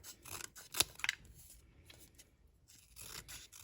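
Scissors cut through folded paper layers close up, giving crisp snips and scraping strokes in a back-and-forth rhythm, with two sharp clicks early and quieter rustling cuts after.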